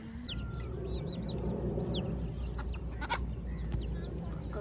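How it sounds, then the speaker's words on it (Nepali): Roosters and chickens cluck and call among goats at a farm, with bird chirps over a steady, fairly loud outdoor background. "ऊ कुखुरा हो भालेहरू छ"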